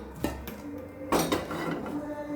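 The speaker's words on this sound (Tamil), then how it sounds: "இப்போ அடுப்பை பற்ற வச்சு கடாயை அடுப்பில் வச்சுக்கிடுவோம்" A metal kadai pan set down on a stove while making wheat bread halwa: a couple of sharp clanks and scraping rattles of cookware in a quiet kitchen, no talking.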